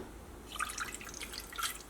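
Water poured into a pot with jaggery, sugar and a quarter cup of water for caramel in an idli steamer cake recipe, giving a light continuous trickling and dripping close by, with no talking.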